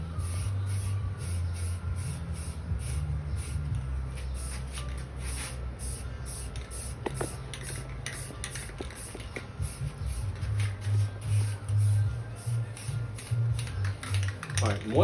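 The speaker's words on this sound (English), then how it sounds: "put a little coat of flat white primer on there just to cover up the nails a little bit" A rattle can sprays flat white primer onto a homemade golf club to cover the nails, heard as a run of short, close hissing bursts in quick succession over a low background rumble.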